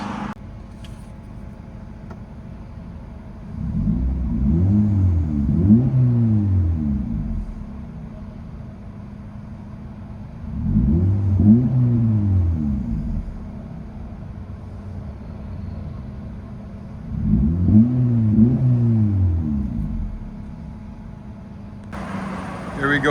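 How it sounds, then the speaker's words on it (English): From inside a 2012 Honda Civic LX 1.8L with a muffler delete and 5-inch tip, the exhaust drones in three separate rising and falling pulls as it accelerates down the road, with quieter cabin hum between. "The Honda Civic with 5-inch tip. Let's see what it sounds like driving down the road."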